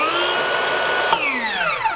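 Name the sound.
Metabo HPT 36-volt circular saw running in high torque mode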